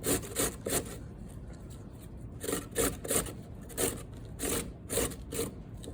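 Beets are rasped against a box grater in steady back-and-forth strokes, a rhythmic scratchy grinding repeated about a dozen times, close and fairly quiet.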